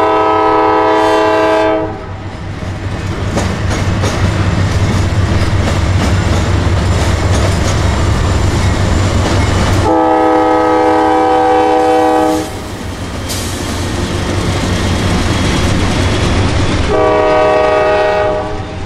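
A CSX freight train with mid-train distributed power rolls past the tracks at Cordele, Georgia, loud and close, its horn blasting in several long sounds over the continuous rumble and clatter of the passing cars.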